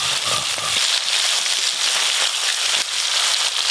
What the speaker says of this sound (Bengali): আবার দেখো কত জোরে জোরে বৃষ্টি এলো।